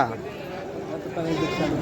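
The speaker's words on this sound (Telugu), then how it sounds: "ఇక్కడ మేకలు కూడా ఉన్నాయి" A goat bleats with a wavering, drawn-out cry, close and fairly loud, at a village livestock market in Chelluru, Chikkaballapur, with voices murmuring in the background.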